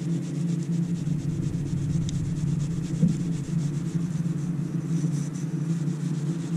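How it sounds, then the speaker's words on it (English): An antique glass bottle is scrubbed to remove hard dirt, producing a steady close rubbing and scratching that goes on without a break, with a faint low rumble underneath. "I'm just going to scrub this off"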